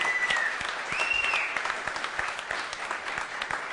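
Audience applause at a talk in Çorum, a steady dense wash of clapping that fills the whole stretch at moderate loudness, with no speech over it.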